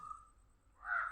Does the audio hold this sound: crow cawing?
yes